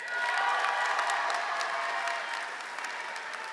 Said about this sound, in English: Please give a round of applause to our second recipient, Adrian Zielinski.